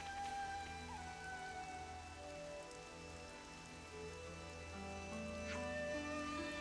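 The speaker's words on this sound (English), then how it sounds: "I guess I'll get it to rain once more." Steady rain falls in the video game Xenoblade Chronicles 3, a continuous even hiss of drops on surfaces, moderately quiet, under a sustained layer of ambient game music with no talking.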